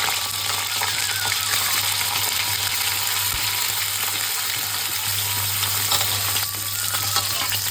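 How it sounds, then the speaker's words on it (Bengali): Steamed cauliflower frying in hot oil with spice tempering, a continuous bright sizzle with light stirring scrapes and a low steady hum beneath, no voices. "এদিকে ফুলকপিটা আমাদের ভাজা হয়ে গেছে।"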